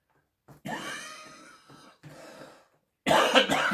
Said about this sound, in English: I've had a bit of a cough for the last few weeks